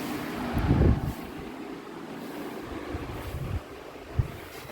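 Wind blows outdoors under a cloudy, humid sky, rushing in low gusts against the microphone with a strong buffet early on and softer surges after.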